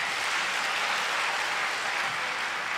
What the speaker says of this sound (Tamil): நாங்க இவ்வளவு கம்மியா கைதட்டுறீங்க